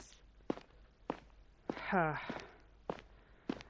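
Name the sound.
footsteps on pavement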